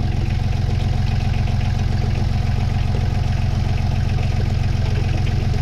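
Steady, low idling of a Yanmar 3YM30 marine diesel engine close by, a constant rumbling drone with no change in pitch throughout.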